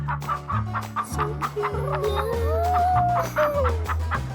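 Hens cluck repeatedly in a farm chicken coop, a close and steady stream of rhythmic clucks with a few higher drawn-out calls over low background rumble.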